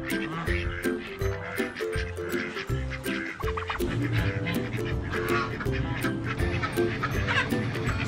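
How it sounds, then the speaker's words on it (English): Ducks quack repeatedly at close range in a busy, continuous stretch of calls, with a person's voice briefly mixed in. "I got ducks."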